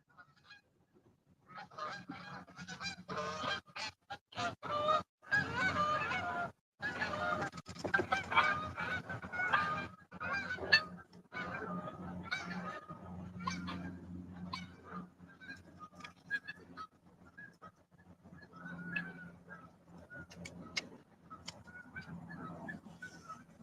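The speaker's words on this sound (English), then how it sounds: "Oh, we got geese coming in." Geese flying in over a river honk continuously, a loud chorus of overlapping calls that stays close for most of the time, with no talking.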